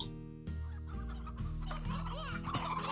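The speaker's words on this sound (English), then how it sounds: "This is just fucking chickens. Literally fucking chickens." Chickens in Slime Rancher, an early version of the game: a flock clucking and gobbling in a series of close, busy calls over a low background hum, with no talk.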